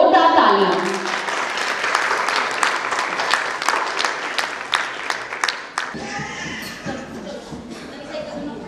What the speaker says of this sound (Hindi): Zordar taaliyan.